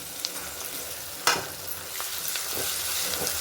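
Ginger-garlic paste ground with cinnamon and cloves frying in a pan of fried onions for vegetable pulao, a steady close sizzle broken by a few sharp scrapes of stirring, no voices.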